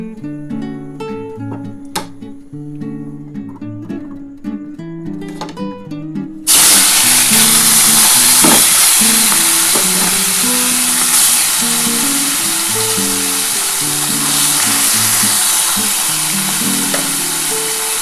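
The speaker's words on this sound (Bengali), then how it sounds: "আমার তেলটা গরম হয়ে গেছে আর এই মাছটা আমি নুন রুদ দিয়ে মাখিয়ে নিয়েছি এবার ভেজে নেব সবকটা" Small kachki fish, rubbed with salt and turmeric, drop into hot oil and break into a loud, steady sizzle that keeps frying close by, after quieter kitchen clatter.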